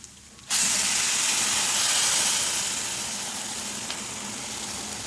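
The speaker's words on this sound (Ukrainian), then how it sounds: "І заливаємо окропом." Boiling water pours over instant noodles and vegetable seasoning in a bowl, starting abruptly as a loud, broad rushing hiss with steamy sizzle that holds steady for several seconds, then eases slightly, with no talking.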